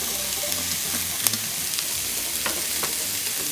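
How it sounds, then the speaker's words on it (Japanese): Carrot, green pepper and onion stir-fry together in hot sesame oil in a frying pan over medium heat, making a dense, steady sizzle with a few sharp spatula clicks, close and fairly loud, with no voices. "ごま油温まったら人参、ピーマン、玉ねぎ全部一緒に炒めていきます"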